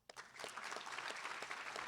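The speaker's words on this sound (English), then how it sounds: "One more round of applause" Brief round of applause from an audience at an annual meeting's opening session, quiet and somewhat distant, a short even patter of clapping.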